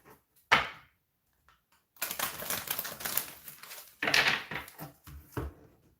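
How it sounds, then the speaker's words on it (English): Short bursts of riffling cards, a quick snap followed by two longer shuffling runs, close and crisp with quiet pauses between. "One more shuffle."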